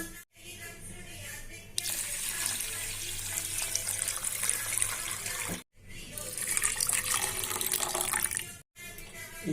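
Water pours loudly and close by in two long gushing streams into a bowl of washed flattened rice, broken by short pauses, with no talking.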